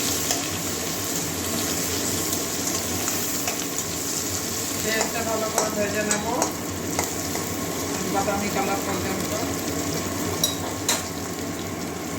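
Sliced onion, green chili, dried red chili, bay leaf and garlic sizzle steadily in hot oil in a pan, a continuous close frying hiss with occasional stirring scrapes and clinks.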